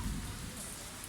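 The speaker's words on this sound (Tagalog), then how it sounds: "hindi na napigilan si Haring Ulan mga idol. Bumagsak na." Steady rain falls outdoors as a faint, dense, even hiss with no pauses and no voices.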